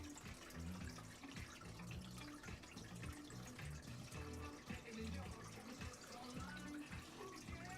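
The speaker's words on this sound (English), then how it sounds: "Pour out a little bit of the water." Water poured out of a container in a steady splashing stream with dripping, close and fairly loud, continuing for several seconds with no talk over it.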